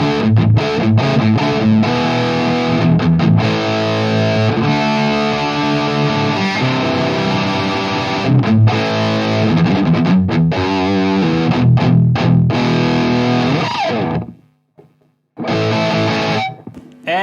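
Schecter Banshee 6FR with EMG pickups through a Mesa Dual Rectifier head in Vintage mode at very high gain, played into a Marshall 1960 cabinet without a noise gate: loud, continuous, heavily distorted riffing that stops briefly near the end, then resumes.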